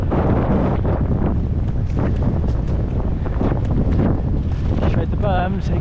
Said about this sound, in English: the wind's pushing me, pedaling